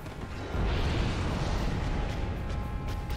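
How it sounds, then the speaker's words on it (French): An explosion in the video game Dark Souls Remastered gives a dense, sustained rumbling roar that swells early and holds steady for a few seconds without clear breaks. "L'explosion est pas mal."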